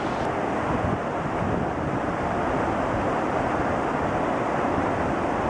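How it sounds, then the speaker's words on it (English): Steady, broadband rushing of a waterfall along the Carbon River, constant and loud throughout with no pauses, mixed with some wind buffeting on the microphone. "Waterfalls. Look at that."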